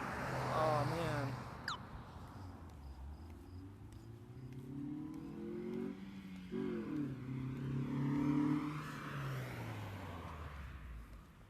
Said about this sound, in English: Super fast car just went by.